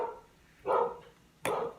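Dogs bark outdoors in the distance as a car pulls up, two short, muffled barks spaced apart against a quiet background.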